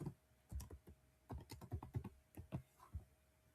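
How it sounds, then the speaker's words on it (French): A password is typed on a computer keyboard in a quick, irregular run of close, crisp keystrokes lasting a few seconds, with no voice. "Donc, je tape bien mon mot de passe."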